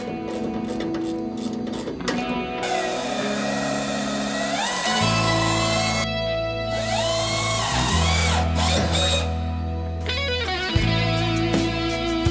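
Power drill boring holes for a car roll cage, repeated whirring bursts whose pitch rises and falls as the bit spins up and bites, with short pauses between runs.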